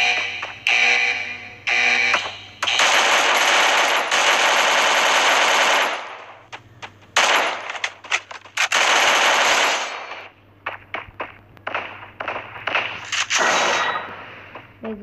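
Rapid automatic gunfire in the Free Fire mobile game, loud bursts of close shots with brief pauses, then scattered single shots and fading fire toward the end.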